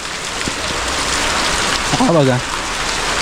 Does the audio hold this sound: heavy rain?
yes